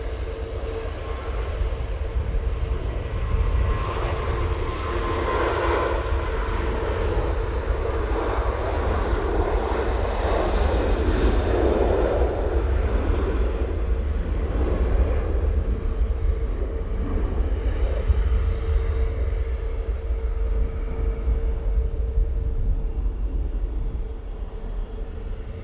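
A departing airliner at Manchester Airport roars steadily for the whole stretch, a broad, constant jet engine rumble with no talk over it.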